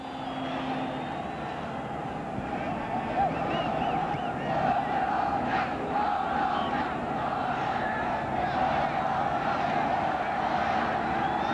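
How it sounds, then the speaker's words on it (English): Stadium crowd noise in the soccer game World Cup USA 94 during Romania versus Colombia, a steady dense roar of a large crowd that swells slightly midway, with no talk over it. "the crowd enjoyed that little shimmy from him"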